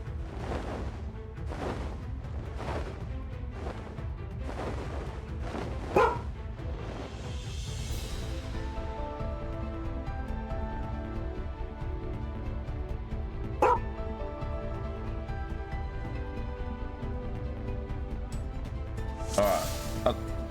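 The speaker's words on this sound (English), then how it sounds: "I'm just gonna go and let the dog outside so she stops barking in my ear." A pet dog barks and yips in repeated sharp bursts, close by and fairly loud, scattered through a steady indoor background hum with no talk.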